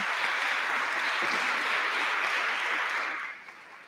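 Warm applause from a full hall audience at a book presentation in Fermo, Italy, holding steady for about three seconds and then tapering off toward the end.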